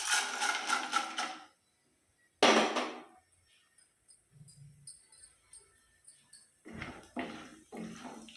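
Peanuts and chana dal drop into hot oil with curry leaves and asafoetida for a tempering, bursts of loud crackling sizzle followed by quieter scattered popping and light spattering.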